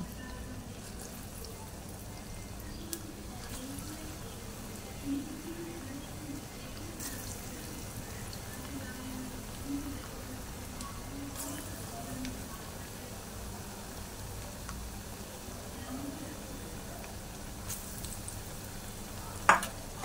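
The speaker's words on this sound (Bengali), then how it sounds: "এখন আমি বড়াগুলোকে খুব ভালোভাবে ভেজে নেব।" Boondi batter fritters for motichoor laddu frying in hot oil, a steady low sizzle running throughout with a few faint clinks and stirring scrapes, no talking.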